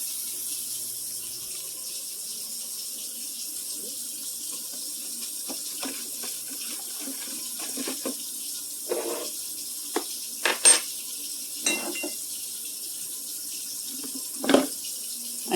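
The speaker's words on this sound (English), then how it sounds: "I fill the water up to about 10." A kitchen tap runs steadily into a pot being filled with water for spaghetti sauce, a constant close rush broken by a few light metallic clinks.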